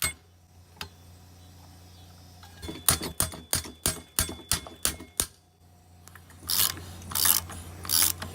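Ratchet wrench clicking as it loosens the 24 mm flywheel nut on a lawnmower engine during a teardown, with a run of sharp, evenly spaced clicks followed by a few louder rasping bursts, close and clear, with no talk.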